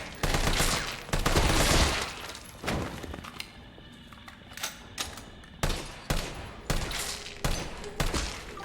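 Gunfire in the video game Resident Evil 3: a dense burst of rapid shots, then a pause, then a steady run of single loud shots at regular intervals.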